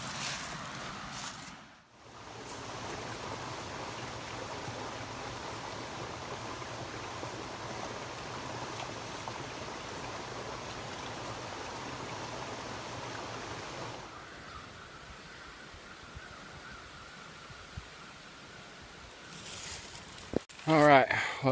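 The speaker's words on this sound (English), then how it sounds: "Oh, and a nice creek." Steady rushing of Jack Creek on the Ozark Highlands Trail, a continuous broadband wash that softens partway through, with a brief clatter near the end.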